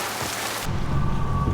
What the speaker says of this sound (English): They have improved the rain effects from the previous game.